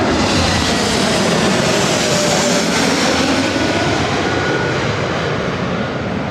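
A JetBlue Airbus A321neo arriving from JFK passes close and loud, its engines giving a steady broadband roar with a rumbling low end that holds without letting up.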